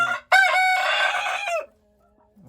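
A rooster crows once, a loud, strained cock-a-doodle-doo lasting over a second, close by, followed by quiet.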